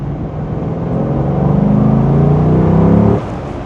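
A car fitted with a K&N cold air filter pulls hard in second gear from 2,000 to 4,000 rpm, its loud engine drone climbing steadily in pitch before abruptly easing off near the end.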